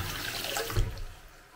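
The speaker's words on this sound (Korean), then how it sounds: "변기통에 넣고 물을 부어도" Water poured into a toilet bowl rushes and gurgles as it drains down, a close, brief splash that fades quickly.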